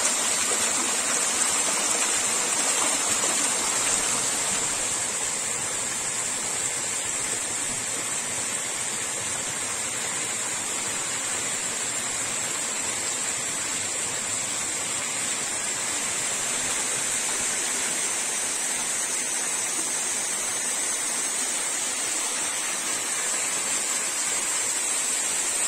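A continuous rushing roar of a large waterfall and flowing mountain stream in a gorge near Yalta, in freezing weather, steady and fairly close throughout with no other sounds.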